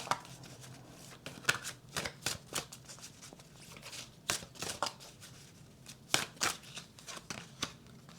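Tarot cards are shuffled and drawn from a single deck, producing a quick series of crisp riffling slaps and flicks at an irregular rhythm, close by and fairly quiet, with no talking over them.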